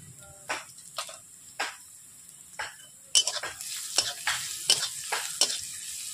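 Spice masala with turmeric and chilli powder is stir-fried in a pan, with a low sizzle under about a dozen distinct scraping stirring strokes in a loose rhythm that grow busier and louder in the second half.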